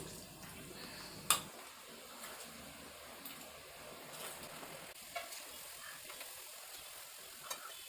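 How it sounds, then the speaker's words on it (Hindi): A second batch of crispy namak para, small maida snacks, deep-fries in oil with a soft, low sizzle, broken by a sharp clatter near the start and a few faint clicks from stirring. "इसी तरह अब दूसरे बैच को भी फ्राई कर लेंगे"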